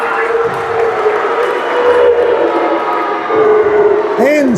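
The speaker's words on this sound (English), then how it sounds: "the crowd, as you can hear, are not happy with that" Disgruntled basketball crowd in an indoor arena reacting to a block, a sustained loud roar of voices with rising whistles and jeers near the end.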